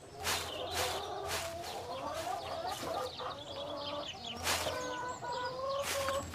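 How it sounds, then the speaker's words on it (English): Hens clucking in a farmyard, a busy series of short clucks and squawks from several birds overlapping at close range, fairly loud with steady low background hum beneath. "Just keep a lookout for our silly hens."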